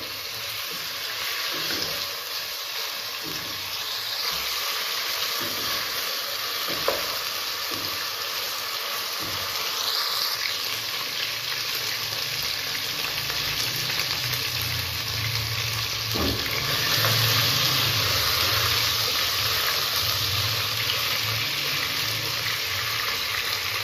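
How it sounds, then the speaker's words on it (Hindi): Meat frying in a pan for palak gosht with chicken, giving a steady, hissing sizzle that carries on throughout, moderately loud and without speech. "आठ मिनट तक हम इसे अच्छी तरह भूनेंगे कि इसका कलर जो है अच्छी तरह चेंज हो जाए।"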